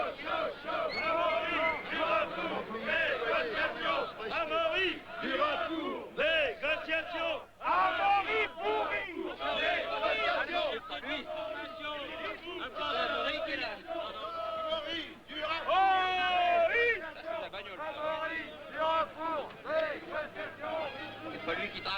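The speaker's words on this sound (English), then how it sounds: "even the demonstrators have their favourites to cheer, such as the idolised Bernard Thévenet" Demonstrators cheering and shouting together at the 1976 Paris-Roubaix cycling race, a loud continuous crowd roar with rising chants and calls that swells and dips throughout.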